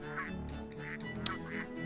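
Ducks quack and honk repeatedly in a steady rhythm, fairly faint, over a humming synthetic background, with a brief click near the end.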